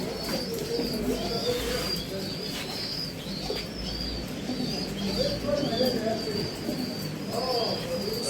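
King pigeons in a cage coo in low, repeated throaty calls, close by and fairly loud, with chirps and background murmuring.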